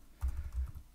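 Keystrokes on a computer keyboard as JavaScript is typed into a Node.js console, a brief run of soft, close taps over about a second, alone with no talk.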